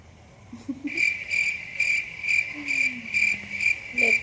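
Small frogs call inside a house at night, a shrill pulsing trill repeating in regular bursts roughly every half second, close and clear, with faint low sounds underneath and no talking.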